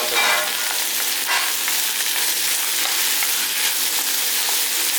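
Green chili sautés in hot oil in a pan for an okra curry, giving a loud, steady crackling sizzle that runs without a break and with no voices.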